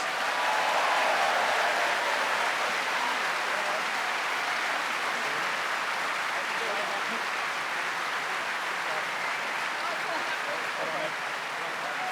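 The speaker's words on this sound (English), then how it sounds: "a huge round of applause for our wonderful debaters" Audience applause for the debaters at the close of a Spectator debate on whether Britain should leave the EU, a steady, dense wash of clapping from a large crowd sustained throughout, slightly easing near the end.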